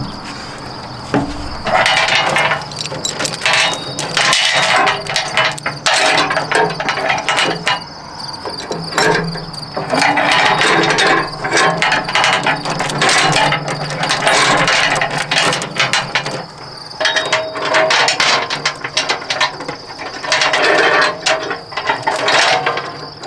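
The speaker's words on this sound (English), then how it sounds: "Now that I have my chain attached to my skid steer" A metal chain is handled and hooked onto a skid steer for pulling fence posts. Continuous close rattling, clinking links and ratchet-like metallic clicks run for over twenty seconds, with brief lulls and no speech.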